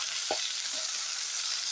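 Tomatoes sautéing in a pan for carp fish curry produce a steady, close sizzle, with one brief stirring scrape near the start.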